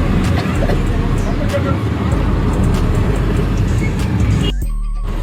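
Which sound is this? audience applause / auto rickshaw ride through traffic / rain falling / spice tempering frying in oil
auto rickshaw ride through traffic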